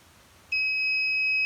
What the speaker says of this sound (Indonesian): maka dia akan mengirimkan notifikasi dan juga buzzer akan berbunyi